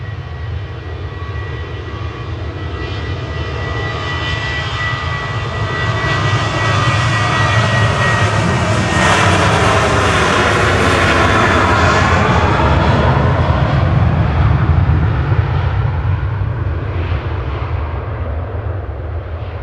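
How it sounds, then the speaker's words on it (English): A Boeing 737-800 jet departing Manchester Airport, a loud sustained engine roar that builds and peaks with a sweeping whine as it climbs away, continuous throughout with no talking. "JZHF departing to Alicante with flight 881, 737-800"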